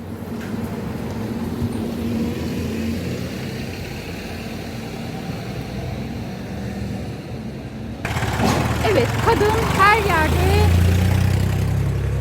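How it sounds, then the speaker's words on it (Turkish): A municipal city bus pulls up in a village, its engine a low steady drone that grows louder and closer partway through, with a voice speaking over it. "Ve belediye otobüsü de geldi."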